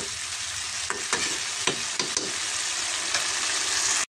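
Dried fish (shutki) stir-fried in a pan with green tomatoes for a Bangladeshi bhaji, giving a loud continuous sizzle broken by several scraping clicks of a spatula, no voices.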